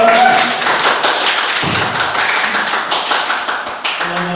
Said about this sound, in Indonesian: Tepuk tangan yang meriah untuk kelompok 6.